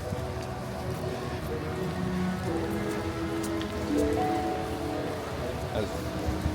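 Rain patters steadily on surfaces outdoors at Universal Studios Florida, a dense even hiss with people talking indistinctly in the background.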